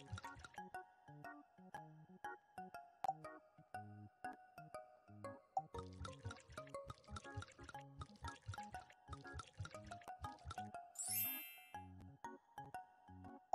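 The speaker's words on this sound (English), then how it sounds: "Pour some liquid in it." Cartoon liquid pouring into a toilet in a kids' house-cleaning game app, with quick plinking drip and pour effects over light background music, ending in a bright sparkle chime.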